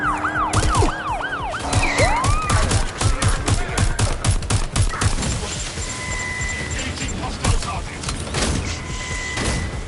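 Gunfire in Watch Dogs Legion crackles in rapid, dense bursts of sharp shots, mixed with wailing sirens at the start and scattered impacts afterward, loud and chaotic.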